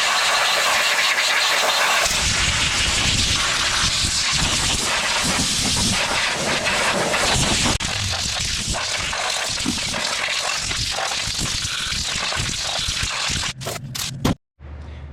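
A loud, continuous rushing hiss of air blows debris off a John Deere 116 riding mower outdoors, with rattling and scratching as it moves, then a few sharp clicks before it cuts off.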